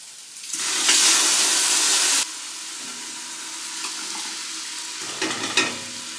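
Canned stewed tomatoes, tomato sauce and kidney beans pour onto cooked meat in a pot with a loud burst of hissing sizzle. It settles into a quieter steady simmer, with a few stirring scrapes near the end.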